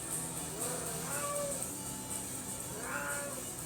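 A kitten lets out two soft, rising meows about a second and a half apart, faint and fairly close over steady background hiss, with no talking.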